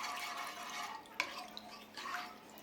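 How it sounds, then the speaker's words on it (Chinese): A spatula scraping and stirring konjac powder dissolving in water heating in a large pot, producing soft continuous sloshing and scraping with one sharp utensil knock against the pot partway through. "一边加热一边用铲子不断的搅动"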